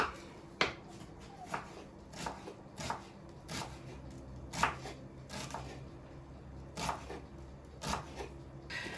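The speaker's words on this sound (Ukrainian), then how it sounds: "Так що дрібно ріжу і теж додаємо в котлети." A knife finely chops an ingredient for cutlets on a board, irregular crisp taps spaced across the stretch, close and fairly quiet with no talk.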